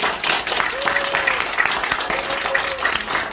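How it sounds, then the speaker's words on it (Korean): Audience applause at a detective academy graduation ceremony: a steady, dense round of clapping from a crowd that lasts throughout, with a voice talking over it. "큰 박수 부탁드립니다"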